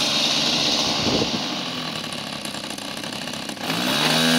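A model aircraft's glow engine running steadily with its propeller spinning, loud and close, the tone dropping briefly as the prop is braked before the engine picks up again.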